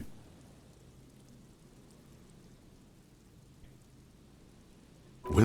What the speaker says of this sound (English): They rustle confidentially, in tune with the pitter-patter of the rain.